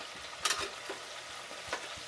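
Chicken wings fry in hot grease with a soft, steady sizzle, punctuated by a few brief crackling pops and stirring clicks, close and fairly quiet with no voices.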